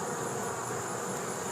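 A honeybee carrying pollen buzzes close by, a faint, steady drone with a bright, even hum that does not let up.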